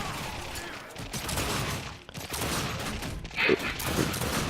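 Dense, continuous gunfire from The Darkness 2 video game, a chaotic fusillade of shots mixed with game noise and a brief sharp effect, played at moderate loudness throughout.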